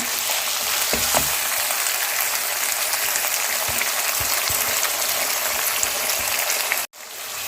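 Mutton karahi with yogurt sizzles steadily in a hot pan, a loud, dense, close frying hiss with a few clinks of stirring, and a sudden brief cut near the end.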